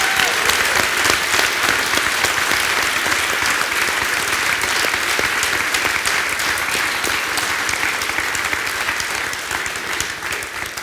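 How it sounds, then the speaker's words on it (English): A large crowd applauds loudly and steadily, the clapping sustained throughout and tapering slightly at the end. "I think let's have a huge round of applause for Hilmar."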